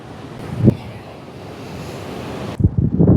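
Sea waves at Velankanni beach roll in under heavy wind buffeting the microphone, with two surges of surf crashing nearby, one early and another near the end, with no talking.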